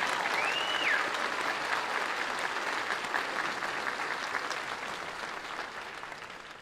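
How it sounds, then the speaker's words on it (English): A crowd applauds at a military basic training graduation ceremony at Fort Jackson, steady sustained clapping from a large audience that carries on throughout and slowly fades toward the end, with a brief whistle near the start. "I ask that y'all please join me in a round of applause for these remarkable men and women."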